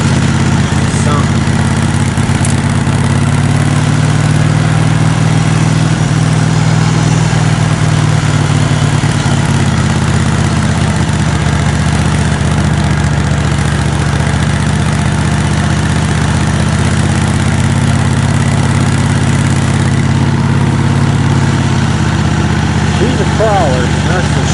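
A riding mower tractor engine idles steadily up close, a loud low rumbling drone that holds constant throughout with no pauses.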